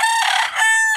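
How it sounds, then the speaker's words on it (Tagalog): A rooster lets out a single loud, close crow lasting about a second, the harmonic call rising then falling in two strained parts. "Ayun mga manok sa dyan,"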